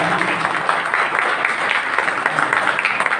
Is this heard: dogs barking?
no